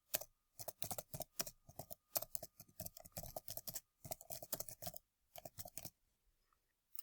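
Rapid bursts of keystrokes on a computer keyboard as a caption is typed, crisp close clicks in uneven clusters with brief pauses, ending in quiet.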